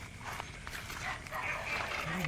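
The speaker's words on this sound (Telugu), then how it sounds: "ఆ కుక్కలు కూడా సిగ్నల్ ఇస్తున్నాయి బాయ్" Dogs bark faintly in the distance outdoors near trees, under people talking close by.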